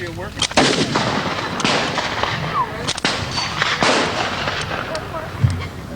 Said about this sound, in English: Or we shoot a 4-inch balloon with a blank, like I'm shooting here today.